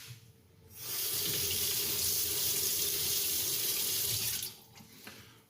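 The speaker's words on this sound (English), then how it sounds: "That's only running water" Tap water runs steadily for about four seconds while rinsing a Haidu aluminium oxide sharpening stone in a sink, starting and stopping abruptly, with quiet room tone on either side.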